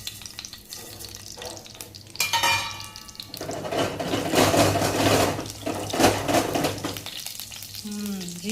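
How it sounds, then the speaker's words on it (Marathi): Cumin and mustard seeds crackling and sizzling in hot oil in a kadhai, a steady frying hiss with bursts of popping that swell louder midway, with no talk. "जिरे मोहरी तडतडली की लगेच शेंगदाणे टाकूया"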